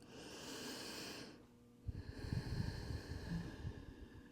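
Slow breath drawn during a gentle yoga stretch, a long airy inhale fading into a brief pause, then softer, rougher breathing follows close to the mic.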